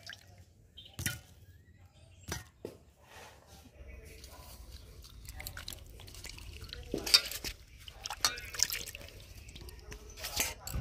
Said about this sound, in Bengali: এবার আমগুলোকে ভালো করে ধুয়ে নেব।